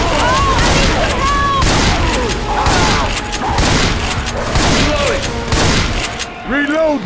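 Rapid bursts of gunfire ring out in Left 4 Dead 2 at the fairgrounds, loud and nearly continuous, with booms and character voices shouting over the shooting.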